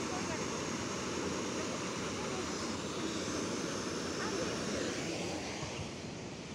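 A waterfall on the upper side near Pokhara pours in a steady, dense rush of white water that stays loud and close from start to finish, easing slightly at the very end.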